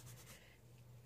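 Caran d'Ache Neocolor II water-soluble wax pastel crayon stroked lightly across paper, a faint close scratchy rubbing in short strokes, no speech.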